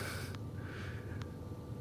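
Two short, quiet sniffs about a second apart over a low steady hum.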